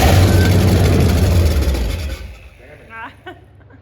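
A junkyard 351 Cleveland engine that has sat since 1993 runs loud and rough up close, then dies away after about two seconds into sputtering, with a voice speaking as it quits.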